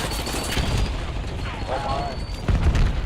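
A dense, loud wash of rumbling blasts and rattling gunfire in a video game runs the whole time, with a heavier boom near the end, and a voice briefly speaks over it.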